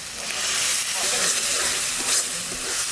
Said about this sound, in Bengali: ভালো করে ভেজে নিয়েছি এবার টমেটোর পিউরি দিয়ে দেবো